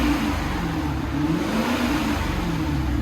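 A 2002 Lexus SC 430 with its 4.3L V8 fitted with Dynomax Bullet mufflers, a steady close-up low exhaust drone with slight rises in revs, no voices.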